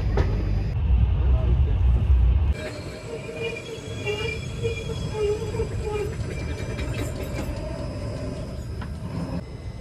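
A passenger train pulls out of Jolarpet Junction, a heavy rumble that is loudest at first, then settles into a steady rolling clatter with faint wheel squeal.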